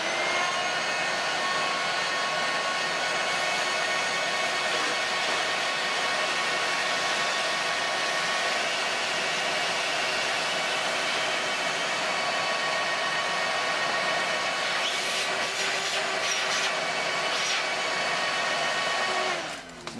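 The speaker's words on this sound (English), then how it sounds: "we're going to run a vacuum cleaner and we're going to get it that way." A vacuum cleaner runs steadily at close range on a plastic intake with a loud, constant whine, and a few brief clattering sounds near the end as a broken fitting piece gets sucked up.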